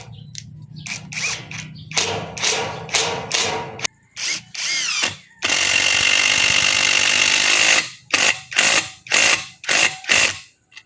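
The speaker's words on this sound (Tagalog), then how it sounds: "Ganon nga kalakas yung ating impact driver ng Tanzo na ito." Tanzo 160 Nm cordless impact driver running in repeated bursts, a long continuous whirring run in the middle, then several short sharp trigger pulls in quick succession, loud and close with no talking.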